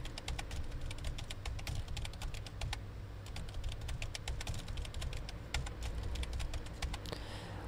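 Fast, close clicking of keys on a computer keyboard while details are filled into an online form, heard as a continuous run of irregular keystrokes over a low room hum.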